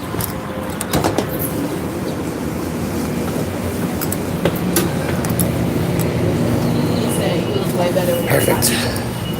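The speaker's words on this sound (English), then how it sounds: "That is my train." A Denver W line light rail train rolls into the station with a steady broad rumble and occasional clanks and squeals, while people talk nearby.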